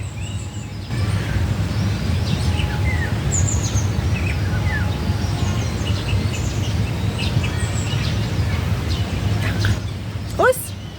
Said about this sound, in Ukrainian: Вже як пташки співають, ви чуєте?